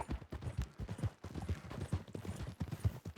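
Galloping horse hooves in the video game Red Dead Redemption 2, a quick irregular clip-clop rhythm, fairly close but quiet, running steadily without talk.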